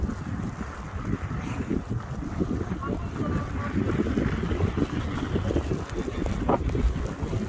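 Strong winter wind during a snow storm on Dundas Street in Toronto, minus 11 Celsius with windchill, roars steadily and buffets the microphone in a dense, continuous rumble with no break.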